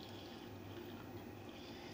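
Water squeezed out of homemade paneer through a straining cloth, a steady close trickle and splash of liquid running without pause, with no voices.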